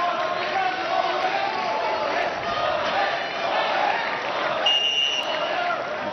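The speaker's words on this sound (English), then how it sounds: "You can hear the Indian fans in the crowd shouting, more hit, more hit." Indian fans in an arena crowd at a Commonwealth Games boxing bout in Birmingham chant and shout in rhythmic bursts, a continuous roar of voices with a brief electronic tone near the end.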